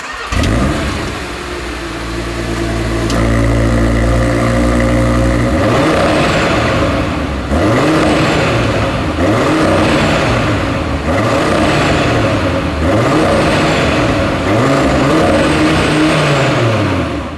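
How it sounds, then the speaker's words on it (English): An ABT RS3-R five-cylinder car engine cranks and catches, settles into a steady idle, then revs repeatedly in rising and falling sweeps, loud and close. "let's just start the car and listen to how it all sounds"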